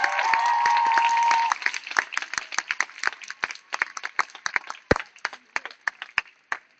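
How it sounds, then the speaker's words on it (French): An audience claps for a group of schoolchildren, a short burst of dense applause giving way to scattered, separate handclaps that keep going irregularly, with a brief voice at the very start. "On les applaudit très fort"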